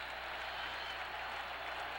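Crowd at a 1978 Chicago Bears at Green Bay Packers football game: steady, distant applause and cheering as a continuous wash of noise with a faint low hum beneath.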